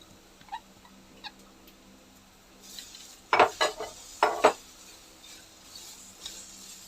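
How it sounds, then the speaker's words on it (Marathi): Dry moth beans rattle and scrape in a pan as they dry-roast during a few short stirring bursts, against a quiet background. "आता ही जी मटकी घेतली ती आपण भाजून घेणार आहोत"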